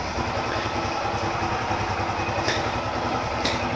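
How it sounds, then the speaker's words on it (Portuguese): A motorcycle engine, newly started in neutral after an oil change, idles with a steady, quiet low chug. It runs without revving, and two faint clicks sound near the end. "Bota no neutro, ligou, deu a primeira partida, não acelera."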